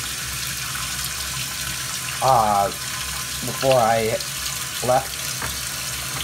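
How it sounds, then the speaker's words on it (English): Cold water rushes steadily into a GE GTW680BSJWS top-load washing machine during a rug wash, a continuous hiss and splash running under intermittent speech. "the water coming in is completely cold"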